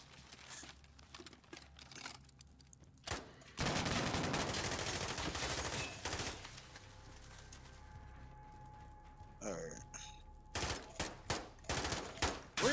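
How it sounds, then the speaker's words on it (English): Gunfire in Call of Duty Modern Warfare on realism mode, with sharp bursts and a sustained barrage of shots, followed by scattered single and short bursts, some loud and close, others quieter, alongside occasional game effects. "Oh, no, they still shoot."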